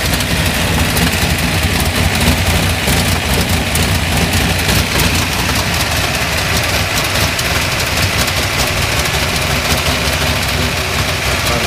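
A 1978 Camaro Z28 with a 400 cubic inch V8 and aluminum heads idles steadily and loudly nearby, a dense continuous rumble with an even rhythmic lope and no voices.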